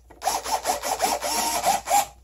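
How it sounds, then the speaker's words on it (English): About eight rhythmic rasping strokes of a tool driving screws back into a solar street light housing, close and steady, with no talking. "And so I'm putting back all the screws."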